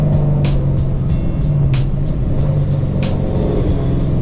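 An S197 Ford Mustang fitted with a Whipple supercharger accelerates hard close by, a loud continuous rumbling engine note with a steady whine, punctuated by regular sharp clicking bursts, no talk.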